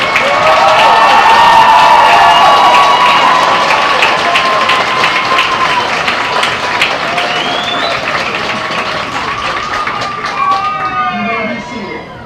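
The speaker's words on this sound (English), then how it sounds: "Can we have one more round of applause for our North Posey side?" Loud applause and cheering from a large crowd at a high school graduation ceremony, sustained clapping with shouts and whoops that slowly eases, voices chattering through it.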